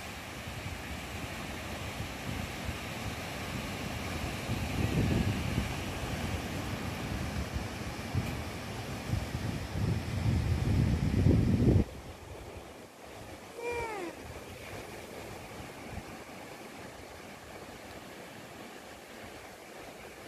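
Ocean waves wash onto Bangtao Beach in Phuket with wind, a broad soft rushing surge that swells and then drops off, leaving a quieter steady wash.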